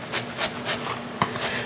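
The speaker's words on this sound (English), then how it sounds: "I wanna go ahead and take my squash and I wanna just hand grate it" Squash being hand grated, a rhythmic series of raspy scraping strokes repeating about every quarter second, close and moderately quiet, with one sharper knock partway through.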